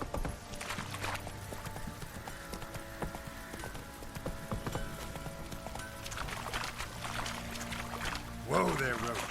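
Hooves of Roach, a horse in The Witcher 3, clop in a steady rhythm amid busy game ambience, with a voice calling to the horse near the end.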